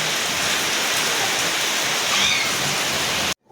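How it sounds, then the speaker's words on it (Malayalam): Steady, dense rain pours down on a Kerala morning, a loud even hiss with no voices, ending abruptly just before the close. "അവർ മഴ നന്നായിട്ട് എൻജോയ് ചെയ്യുന്നുണ്ട് കേട്ടോ."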